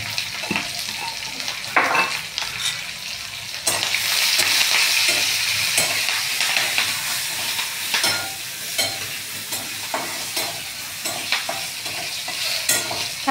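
Large-cut green chillies, salted, sautéing in a pan until crisp, a steady close sizzle and fry broken by repeated sharp scrapes and clinks of a spatula stirring against the metal; no one speaks.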